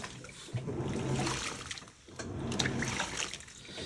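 A Panasonic 9.5kg top-load washing machine takes in water during a power wash cycle, a steady rushing and trickling fill close by that dips briefly midway and then resumes.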